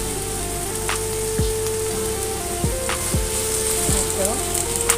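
Chinese white cabbage stir-fried in a pan with sugar, salt and oyster sauce, sizzling steadily up close under a few clanks of the spatula and faint background tones.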